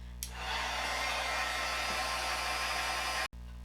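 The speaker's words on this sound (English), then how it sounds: "I'm going to use my heat gun." A heat gun blows a steady, even whoosh of hot air over inked cardstock, starting with a click and cutting off abruptly near the end, close and alone.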